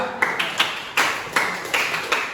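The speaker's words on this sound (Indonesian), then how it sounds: "aplaus untuk kelompok 2" Students in a classroom applaud group two with a short burst of clapping, a few sharp, uneven claps standing out in a roughly rhythmic pattern, close and fairly loud.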